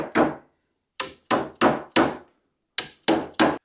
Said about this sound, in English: Go ahead and insert your dowels. And then pull out your Dowel Setter 3000 here.